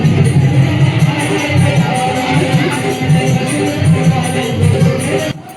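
A dense crowd of worshippers murmurs and shuffles at a Krishna temple darshan, a loud, continuous mass of overlapping voices and movement with pulsing swells that drops away abruptly at the end.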